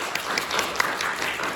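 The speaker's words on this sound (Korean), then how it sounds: "다시 한번 박수 부탁드립니다" An audience applauds after an academic presentation, a brief burst of steady clapping from many hands filling the room.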